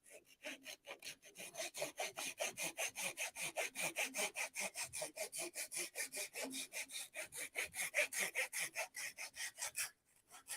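Rhythmic hand sawing through a woodturned basket handle, steady back-and-forth strokes repeating close by for about ten seconds, with a brief pause near the end.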